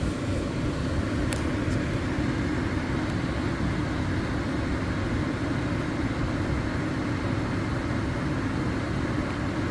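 A residential air conditioner's blower motor (1/3 horsepower, 2002 unit) running at a higher speed, producing a steady, loud broadband whoosh and hum that continues without change throughout.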